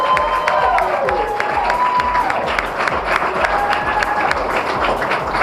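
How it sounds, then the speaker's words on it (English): A crowd at a scholarship awards ceremony claps and cheers together, with shouts and whoops rising over dense, steady applause throughout. "Let's hear a round of applause."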